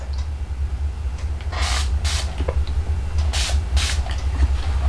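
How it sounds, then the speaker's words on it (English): Spray bottle misting water onto a chamois in a crafting setting: several short, breathy bursts of spray, close and moderately loud, over a steady low hum. "I've just got a spray bottle over to the side that I use to do that with"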